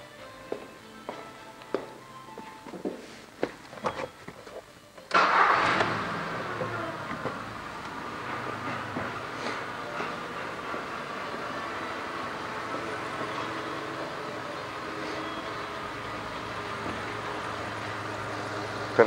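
A Seat 1.6 petrol engine starts after a few quiet clicks, catching abruptly with a loud surge, then settling into a steady, fairly close idle rumble that carries on to the end.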